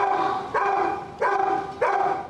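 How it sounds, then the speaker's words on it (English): Several dogs at the overcrowded Dallas Animal Shelter bark loudly three times in a steady rhythm, each a sharp, close, yelping bark set against a low din of kennel noise. "These are the sad faces of stray or surrendered dogs who have been living in the Dallas Animal Shelter for more than a month."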